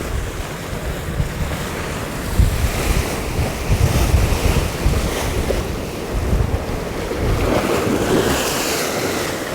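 Heavy ocean swell surging against the shore at a rising tide during sea fishing, with strong gusting wind buffeting the microphone; a loud, continuous roar with slow swells and no voices.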